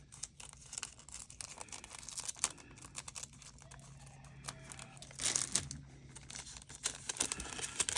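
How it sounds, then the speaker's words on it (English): Plastic packaging crinkling and tearing as scissors snip along its edge, a run of close, sharp clicks and rustles with a louder burst of crackling midway. "Where are my scissors? I'll just snip off the edge here."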